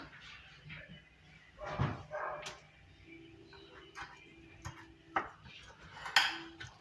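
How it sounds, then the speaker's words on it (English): Ripe bananas mashed with a fork in a bowl for eggless banana bread muffins, giving soft irregular clinks and squishy taps of metal on dish, quiet and close, with a dog faintly audible. "So I'm going to mash these with a fork into a puree"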